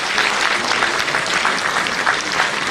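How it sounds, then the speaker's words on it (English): Loud, dense applause from a conference audience of cancer specialists, an unbroken wash of many hands clapping close and full for the whole stretch. "Please give a huge round of applause."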